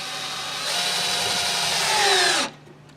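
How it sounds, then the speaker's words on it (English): A power drill drives deck screws into a 2x4, the motor whining steadily and rising in pitch as the screw bites into the wood, then stopping abruptly near the end, close and loud with no talk. "And we want to drive 2 of these deck screws."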